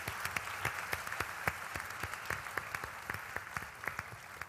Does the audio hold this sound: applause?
yes